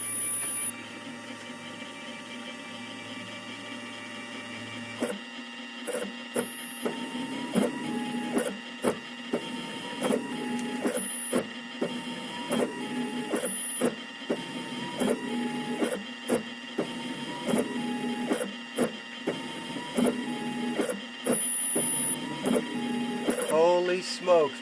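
Small 7x12 lathe running a Mach3 CNC thread-turning cycle: a steady motor whine with electrical hum, broken by repeated rhythmic clicks and short tonal beeps as the cycle steps along.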